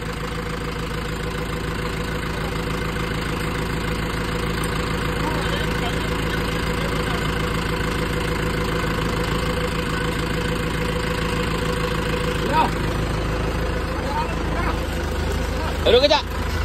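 A tractor engine idles steadily nearby, a constant low rumbling drone throughout with a faint knocking texture and a couple of brief clunks near the end.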